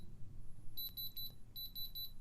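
A handheld diamond tester beeps in quick high bursts as its probe touches metal jewelry, two clusters of rapid electronic beeps over a quiet background.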